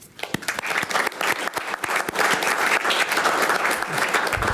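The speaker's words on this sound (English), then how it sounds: "applauding these outstanding professionals for their service and commitment" Loud, sustained applause from the audience at a regular commission meeting, with sharp individual claps standing out near the start before the clapping thickens and holds steady.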